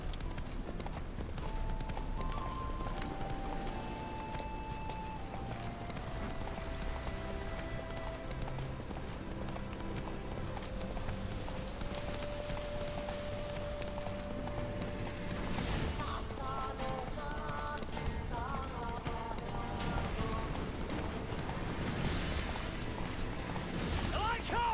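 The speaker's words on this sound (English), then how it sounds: "Run, Roach." Horse hooves clip-clopping at a steady galloping rhythm in The Witcher 3 video game, set against continuous orchestral game music with occasional voices.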